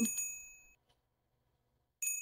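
A bell notification chime on a livestream rings twice, a bright metallic ding that fades out, then a gap of near silence before a second ding.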